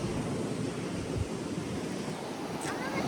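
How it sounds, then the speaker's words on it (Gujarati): Sea waves break at the shore in a continuous, broad roar mixed with wind buffeting the microphone, steady and fairly loud, with a faint voice briefly under it. "ઓહો મોજા આવવાના હે ગાઈસ."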